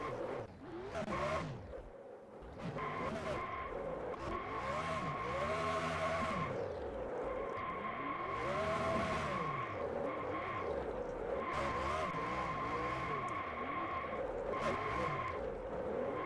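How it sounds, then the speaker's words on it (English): Race car doing a burnout in a NASCAR-style racing video game at a Phoenix desert track, with loud sustained tire squeal and screeching over a revving engine, continuous for most of the stretch after a brief dip near the start. "He's gonna do a Denny Hamlin burnout."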